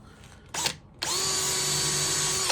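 A power drill bores a hole in a wooden cigar box for a homemade guitar, a brief whir first, then a steady sustained high whine after a pause.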